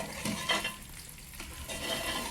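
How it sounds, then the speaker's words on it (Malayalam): Thick mukkutty lehyam, a Kerala herbal paste, stirred steadily in a pan on the stove, giving a soft continuous scraping with faint sizzling that fills the whole stretch, without voices. "അപ്പം അതുവരെ നമ്മൾ ഇളക്കിക്കൊണ്ടേയിരിക്കണം"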